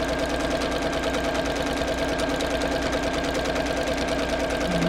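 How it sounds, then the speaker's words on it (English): A sewing machine stitching a seam in fabric at a slow, even pace, a continuous rapid mechanical chatter with a steady motor hum, close and moderately loud. "So I'm sewing a little slower than I usually do, just to keep it a consistent distance from that existing fold."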